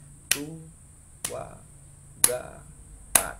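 Four hand claps in an even quarter-note pulse, sharp and close, evenly spaced about a second apart, with a voice counting the beats between them.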